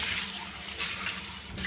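Tap water runs from a faucet to fill a cup, a steady close splashing hiss lasting the whole short moment, with slight surges in flow.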